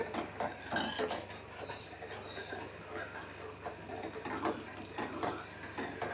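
A spoon stirs sugar into betel leaf payasam in a metal pot, with continuous scraping and clinking against the pot over a steady low background hum and no speech.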